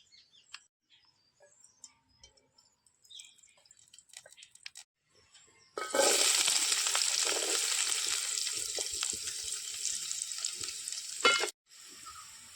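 Ginger-garlic paste, salt, potato and stone-ground masala hit hot tempering oil for a clam curry. After a few quiet seconds of faint kitchen clatter, a loud, steady sizzle bursts in and holds for about six seconds, then cuts off.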